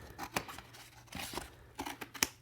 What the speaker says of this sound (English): first we have to cut up this egg carton. We're going to cut off this connecting bit.